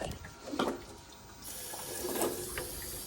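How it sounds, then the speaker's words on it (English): Water flushes through the radiator of a Toyota Land Cruiser during a coolant change, a close rushing, gurgling flow with a few brief mechanical clicks, no talking. "So now we're just running the water through the radiator."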